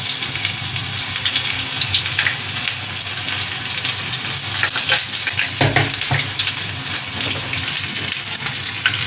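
Onion and garlic frying in hot oil for a dal tempering, a dense steady sizzle close up with occasional scraping and stirring sounds, no talking.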